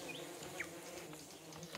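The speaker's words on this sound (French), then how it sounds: "quelques insectes retardataires, le jabot débordant de pollen, regagnaient leur logis en bourdonnant pesamment" A few bees or insects buzz heavily on their way home, laden with pollen, a soft droning hum with brief passes fading in and out against a faint outdoor background.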